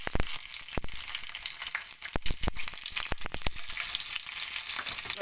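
Tempering for mung dal sizzles in hot oil with dried red chillies, green chillies, cumin, garlic and onions. A dense spitting crackle is punctuated by sharp pops and spatters close by, with no talk.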